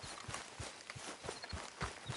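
Horse hooves clip-clop in Red Dead Redemption 2, about eight fairly regular, faint thuds in a walking rhythm over a quiet background.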